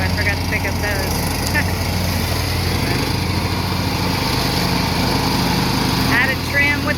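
Steady, loud lawn mower engine hum running continuously, with brief bursts of distant chatter or birdlike chirps on top.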